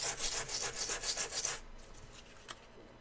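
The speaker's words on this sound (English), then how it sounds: "just sanding away the paint right now, and it's going to clog up my sandpaper rather quickly" Paint being sanded off with sandpaper in quick, loud, rhythmic rasping strokes for about a second and a half, then stopping, leaving only faint room noise and a single small tap.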